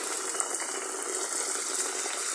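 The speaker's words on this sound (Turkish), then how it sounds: "Evet şimdi buraya da bir çay suyu koyarız." Water runs steadily into a kettle or pot for tea, a close, continuous splashing gush with no talk over it.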